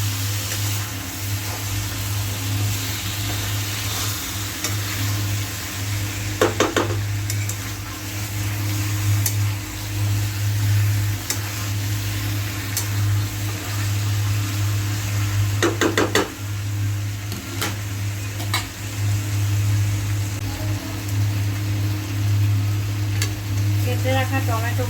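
Chicken frying in a small wok while being stirred: a continuous sizzle over a steady low hum, with a couple of sharp spatula scrapes and knocks against the pan, and a faint voice now and then.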